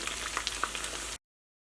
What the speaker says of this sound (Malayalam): ഇനി നമുക്ക് അടുത്ത ട്രിപ്പും ഇതേപോലെ തന്നെ നമുക്ക് വറുത്തിട്ട് എടുക്കാം.